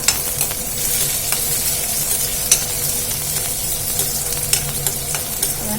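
Chopped onions sizzle steadily in a hot pan for betel leaf rice, a constant close frying hiss broken by a few sharp spoon scrapes and stirring clinks.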